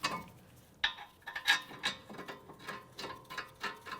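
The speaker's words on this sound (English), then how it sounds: "I'm going to snug it up with a ratchet." Ratchet clicking in short bursts while snugging 19 mm brake caliper bracket bolts on a 2017-2022 Honda CR-V, close-up metallic ticks repeating unevenly, with a louder clatter in the middle.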